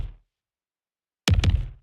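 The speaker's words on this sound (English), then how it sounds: "Here's the first one that I actually printed with some hardware Bucket Brigade delay." Kick drum from the Tenebrae percussion library, printed through a hardware bucket brigade delay: a tail fades out, then after a pause a heavy hit arrives with a quick delayed repeat and a low decaying echo.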